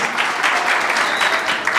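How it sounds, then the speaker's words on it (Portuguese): An audience claps for students at a year-end guitar course recital, a dense, steady burst of applause lasting under two seconds with no voices over it. "Uma salva de palmas aos nossos alunos."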